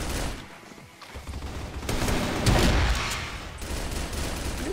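Gunfire from the video game CrossFire, a dense run of rapid automatic shots and bursts with booming impacts, loud and continuous through the whole stretch with no talking.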